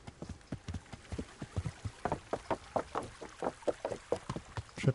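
A horse's hooves clip-clop in a steady, fairly quick gait through puddles in the Kingdom Come: Deliverance video game, the soft wet thuds faint and evenly spaced, with no talk.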